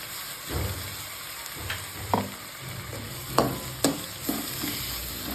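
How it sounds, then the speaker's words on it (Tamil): Beef fries in a pan with ginger garlic paste for beef sukka, a continuous close sizzle punctuated by several sharp scrapes and clatters as it is stirred, and no voice over it. "நல்லா வதக்கினதுக்கப்புறம் நம்ம இஞ்சி பூண்டு பேஸ்ட்டு சேர்த்து ஃப்ரை பண்ணணும்"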